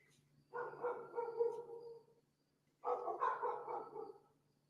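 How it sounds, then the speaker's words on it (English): Dogs next door bark in two sustained bursts separated by a pause, sounding somewhat distant and moderately quiet against an otherwise still background. "I'm trying to figure out what these dogs are barking at next door."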